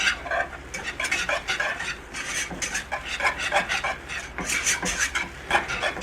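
Spoon scrapes rhythmically around a pan as a flour roux is stirred, producing quick, soft rasping strokes with a faint sizzle underneath.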